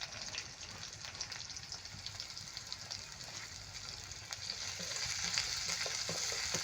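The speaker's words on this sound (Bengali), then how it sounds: "রসুনটা অল্প হালকা একটু ভাজা হইলে শাক দিয়ে দিব" Garlic frying in a pan hisses steadily and close, the crackling sizzle swelling louder toward the end with faint stirring, and no talking over it.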